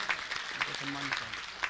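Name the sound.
audience clapping in honour of volunteers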